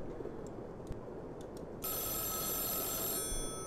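A phone in the horror game Mothered begins ringing partway through, a steady bright electronic ring over a low background rumble, after a few faint ticks.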